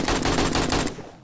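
Rapid, sustained AK-47 automatic fire in the video game 7 Days to Die, a loud dense burst of shots lasting under a second before cutting off abruptly.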